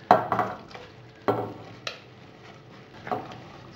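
Watercress soup being stirred in a pot, giving a few separate scraping, clinking strokes with quiet gaps between them, close by, no talking.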